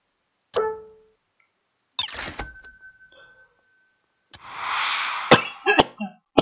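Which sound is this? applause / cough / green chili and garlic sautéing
cough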